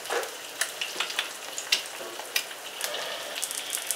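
Cintan instant chicken noodle soup with white pepper cooking in a pot, giving a continuous close sizzling bubble with soft irregular pops and clicks and no voices.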